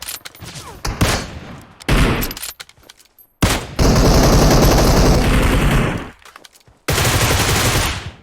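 Loud automatic gunfire from the PUBG Mobile video game comes in dense, sustained bursts with short gaps between volleys.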